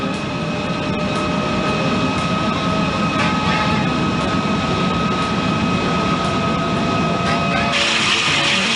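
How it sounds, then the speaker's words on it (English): A burning gas fountain roars steadily, a dense continuous rushing noise that holds loud and unbroken throughout, with a brighter hiss swelling near the end. "And here a gas fountain is burning."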